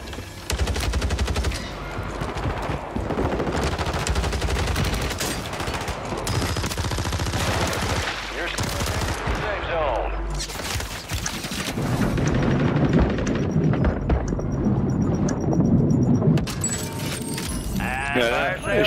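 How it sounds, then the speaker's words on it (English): Gunfire in Call of Duty Warzone on Rebirth Island: continuous bursts of automatic weapon fire and shots, loud and close, run through the whole stretch, with game noise and players' voices talking underneath. "Shooting at me over here somewhere."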